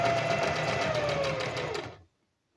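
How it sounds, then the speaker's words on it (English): A sewing machine stitches lace along a curve with a steady, fast mechanical whir and a faint rising whine, running close and alone for about two seconds before it stops dead into silence. "It takes some skill to be able to sew it on a curve"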